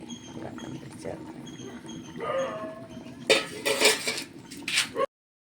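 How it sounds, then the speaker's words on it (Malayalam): A spoon stirring vegetables with turmeric in a pot: metallic scraping and clinking against the pot, growing busier toward the end, over a low background hum with faint speech. "ഒന്ന് സ്പൂൺ കൊണ്ടൊന്ന് കലക്കി"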